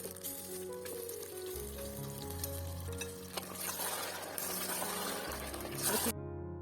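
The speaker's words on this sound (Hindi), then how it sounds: "यहाँ प्याज जो मेरी लाल हो गई है, अच्छी लाइट ब्राउन हो गई है, और अब इसमें गोश्त शामिल कर दे रही हूँ" Spiced beef pieces hit a pan of light-browned onions, hissing into a steady sizzle with occasional stirring scrapes, close and continuous, while music plays quietly underneath.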